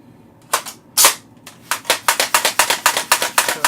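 A gun fires repeatedly as a test: two separate sharp shots, then a rapid run of about a dozen evenly spaced cracks, loud and close.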